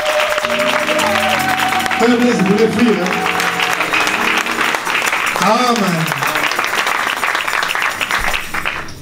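A church congregation at a wedding service applauds and cheers for the Lord, with loud sustained clapping, shouts and a preacher's voice speaking over the crowd throughout.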